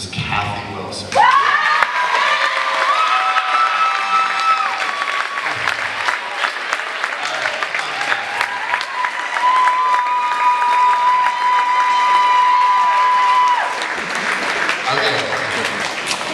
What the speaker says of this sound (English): let's give a warm round of applause and of gratitude for Mrs. Kathy Wilson